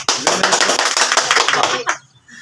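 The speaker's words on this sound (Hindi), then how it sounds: "ताली बजाइए" A class claps together on a teacher's cue, a dense burst of many hands striking fast and loud for nearly two seconds before it cuts off into a brief quiet tail.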